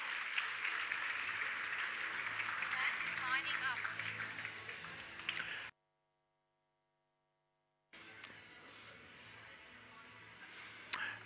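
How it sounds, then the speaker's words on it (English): Audience applause fills an awards ceremony hall, a steady dense clapping that runs for several seconds, drops to silence, then resumes a little quieter. "Let's give them all a round of applause."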